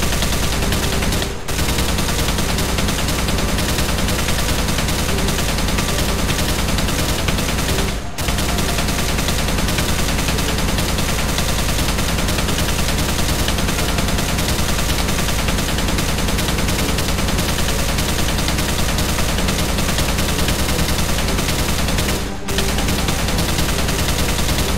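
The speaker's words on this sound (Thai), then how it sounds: "วันนี้พระเจ้าก็ได้เตรียมปืนสุดโหดไว้แล้วนั่นก็คือปืน LMG นั่นเองเข้ามาก็ไม่ต้องพูดเยอะก็ยิงใส่มันเลย" A light machine gun in a video game fires in one long, loud, continuous stream, broken only by three brief pauses, with no voices over it.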